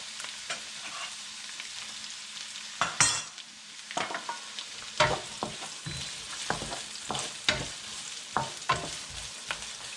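Chopped garlic and onion sauté in a hot pan for Filipino pork picadillo, with soft sizzling underneath and repeated scraping and stirring strokes of a utensil against the pan. No one speaks.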